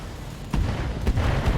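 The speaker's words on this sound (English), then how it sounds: "Ooh, are those mortars?" Mortar rounds land in the mech combat game BattleTech (BTA Universe), giving two heavy, deep booms about half a second apart over a rumbling low background.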